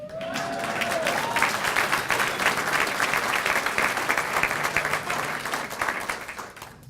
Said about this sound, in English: That was a loud cheer for Vegas.